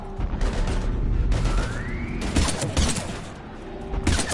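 Rapid bursts of gunfire crack through a chaotic shootout against Husks in Mass Effect, with loud volleys and scattered shots near the listener, a rising whine in the middle and pauses between the salvos.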